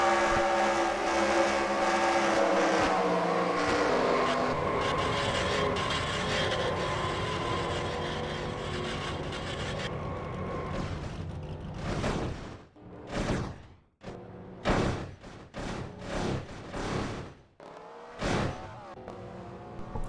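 Race cars roar in a racing video game at a speedway during a playoff event, with sustained engine noise that fades as a wreck unfolds, then sharp bursts of passing cars or impacts.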